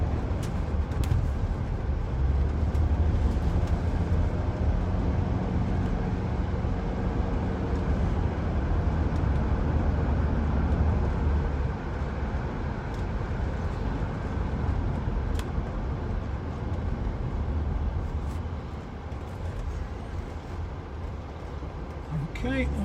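A Jaguar XJS 4.0 coupe with automatic gearbox cruises on the road, a steady low engine and road rumble inside the cabin while someone talks throughout.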